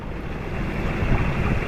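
Waves break and splash against a big rock at Hawthorne Dene. The wash is loud, close and steady, with a rough roar and heavy wind noise on the microphone, and no voices.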